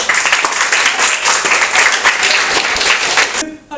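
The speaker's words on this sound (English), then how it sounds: "And a big clap for the little master here." A school audience claps loudly and steadily for a young student, a dense, continuous burst of applause that cuts off sharply near the end.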